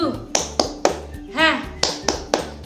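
A teacher claps the Indonesian 'tepuk semangat' chant for young children, with a quick string of sharp, close hand claps broken by a short spoken or sung syllable in the middle.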